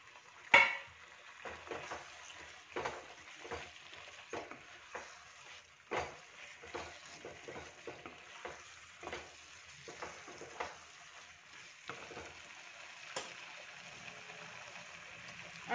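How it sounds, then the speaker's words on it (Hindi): Chopped mushrooms hit a hot pan of matar mushroom masala with a sharp sizzle, followed by a continuous frying hiss broken by repeated scraping and clattering of a spoon stirring against the pan. "अब हम डालेंगे इसमें कटे हुए मशरूम।"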